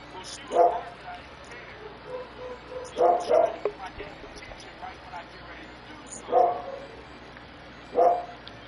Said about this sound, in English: they're barking at another dog that's in the house